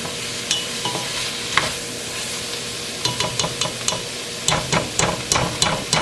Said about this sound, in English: We're going to let this cabbage cook for another 5 more minutes